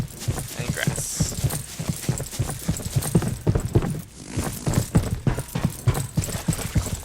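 Footsteps on grass in an Unreal Engine video game, a steady, evenly paced run of soft thudding footfalls heard up close throughout.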